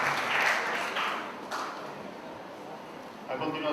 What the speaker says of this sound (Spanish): agradecemos con esos aplausos nuevamente